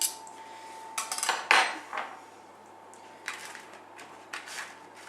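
Knife and fork clink and scrape against a plate while a slice of homemade shepherd's pie is cut, a few sharp metallic taps and scrapes separated by short quiet gaps.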